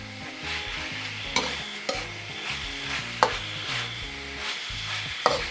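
Pork belly stir-frying in a pan gives a steady close sizzle, with a few sharp scrapes of a spatula against the metal as it is tossed.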